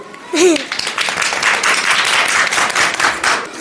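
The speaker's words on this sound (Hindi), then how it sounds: "एक बार ऐसे गुरु जी के ताली बजा दो" A group of people clapping for a teacher at a school, a loud sustained burst of applause after a brief voice at the start, lasting several seconds before tapering slightly.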